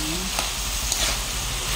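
Vegetables sautéing in a pan for Filipino bihon and Valenciana, a dense continuous sizzle with a brief stirring scrape, close and steady.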